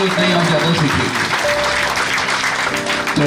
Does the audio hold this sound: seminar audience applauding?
yes